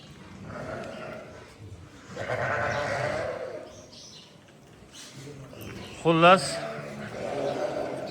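Rams in a flock at a livestock yard, with people talking throughout and one loud, close bleat cutting through near the end.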